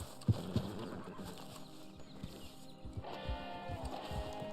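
A horse in Red Dead Online gives a couple of sharp thumps and a whinny-like call, followed by scattered hoof sounds and animal noises. Moderately faint, with no talking.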